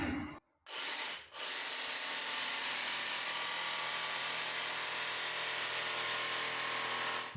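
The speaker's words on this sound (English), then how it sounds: "I suspect maybe a metal blade in the jigsaw might be the way to go. Alright, let's do a little test cut." A jigsaw fitted with a metal blade makes a test cut in a camper van bathroom build, a continuous close rasping buzz that drops out briefly at the start and then holds steady to the end.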